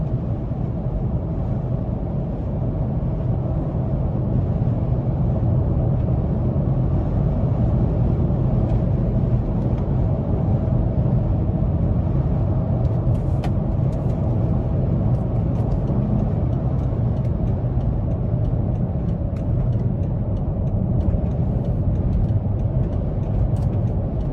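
Engine of a 2017 BMW X5 M Sport under throttle, heard from inside the cabin as a steady low drone and road rumble that hold evenly the whole way through.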